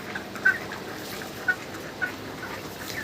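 Chickens on a poultry farm in hot weather cluck quietly, three or four short separate clucks spaced over a soft background murmur.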